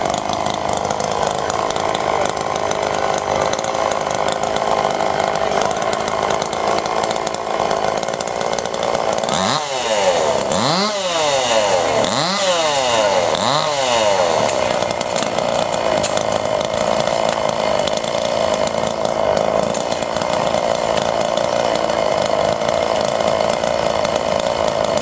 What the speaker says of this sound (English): My chainsaw's all running.